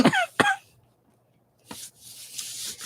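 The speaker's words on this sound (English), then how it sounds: "That cough will not let go." Two sharp, raspy coughs close up, then a pause and some rustling noises.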